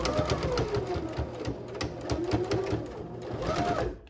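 A sewing machine stitches fabric for a skirt in one close, continuous run with a rapid even clatter that slows and stops at the end.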